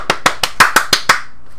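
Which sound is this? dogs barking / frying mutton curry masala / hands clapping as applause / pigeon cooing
hands clapping as applause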